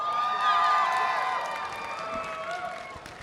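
A crowd cheers and whoops at a cosplay contest on stage at a gaming expo, a loud burst of voices and shouts that swells then slowly fades.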